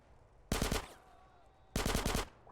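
Two loud bursts of rapid automatic gunfire in the 2004 game GTA San Andreas, each lasting about a quarter to half a second and separated by a pause, with a faint electronic whine lingering between them.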